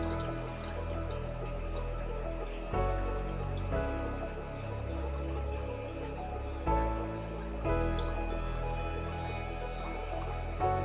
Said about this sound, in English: Water's draining